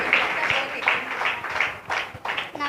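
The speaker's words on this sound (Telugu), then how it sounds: "కొట్టు చప్పట్లు." A group of children at a Sunday school clap their hands in a rhythmic burst of claps close by, with children's voices mixed in under the clapping.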